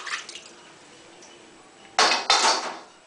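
A tempering of ginger, chilli and curry leaves is tipped into a pot of avial. A faint clatter comes first, then two short, loud splashing bursts close by near the end, with no talk.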